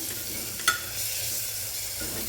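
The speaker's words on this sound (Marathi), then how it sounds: "शेजवान चटणी घालून अगदी मी 1 मिनिट असं त्याच्यात परतणार आहे" Pulao mixture of carrots and peas being sautéed with Schezwan chutney in a pan, a steady soft sizzle with stirring scrapes and one sharper clink near the start, no talking.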